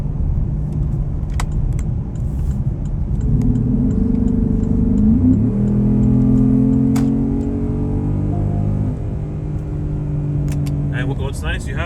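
A Porsche accelerates hard in traffic, its engine rising in pitch through a strong pull then dropping at a shift before revving again, heard from inside the cabin with steady road roar and some clicking.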